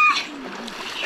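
River water splashing as someone takes a shower in a river in Rwanda, with a loud close splash at the start that fades into softer watery movement, and a voice speaking over it.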